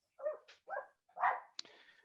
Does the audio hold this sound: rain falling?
no